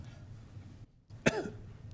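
A single short cough breaks out after a brief hush at a county board budget hearing, over faint room noise.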